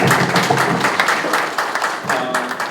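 Audience at a senior church revival gathering applauding, a dense, loud burst of continuous clapping from many hands throughout.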